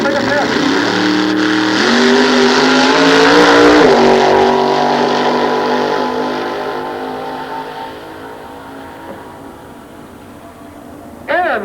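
A nostalgia drag race car makes a pass at Sears Point in 1993, its loud engine roaring and climbing in pitch, then fading steadily into the distance.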